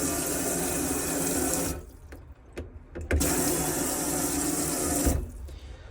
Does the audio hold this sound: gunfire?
no